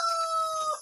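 Chickens in a farm coop giving a brief, loud crowing call, close and alone, cut off within a second.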